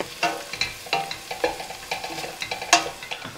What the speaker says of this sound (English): We're now going to add the chopped shallots.